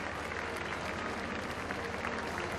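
Steady applause from a crowd lining the street during a Good Friday Holy Week procession as a carved image of Jesus leaves the church, a dense continuous clapping filling the whole moment.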